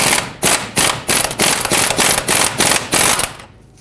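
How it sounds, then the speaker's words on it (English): An impact wrench loosens a 24 mm lower ball joint mounting nut on a 2007-2014 Chevrolet Silverado 2500 HD, firing loud, close, rapid hammering bursts in about nine pulses before spinning down. "Now remove the lower ball joint mounting nut"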